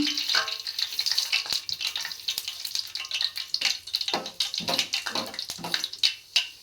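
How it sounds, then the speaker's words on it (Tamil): Mustard seeds popping and sizzling in hot oil in a pan, a steady close crackle with frequent sharp pops throughout and no talking. "கடுகு பொரிஞ்சிருச்சு"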